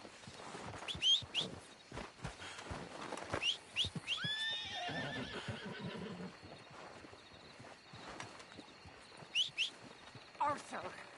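Horse neighs and whinnies in Red Dead Redemption 2, with clip-clopping hooves and several sharp whinny bursts over the span. Game voices speak intermittently between them.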